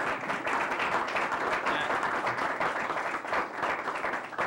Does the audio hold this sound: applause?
yes